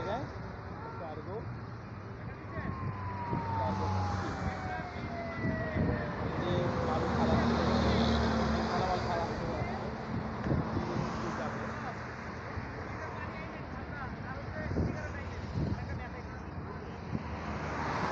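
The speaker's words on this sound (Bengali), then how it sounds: "টলার আসতেছে, আমার সামনে একদম এই জায়গায় কার্গো" A small trawler and a cargo boat pass on the Meghna river below a bridge, their low engine drone steady under strong wind rush, with a voice speaking intermittently.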